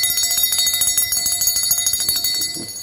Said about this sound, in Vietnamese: Đó, một con chuông đồng rất là hay luôn các bác nhá